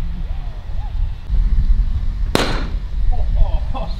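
A single sharp 28 gauge shotgun blast fired at pigeons outdoors, loud and close, with steady wind rumble around it and a faint call beforehand.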